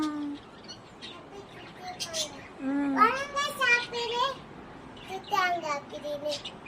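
Pet lovebirds give bright, rising and falling chirps in quick bursts close by, with a voice speaking softly among the calls.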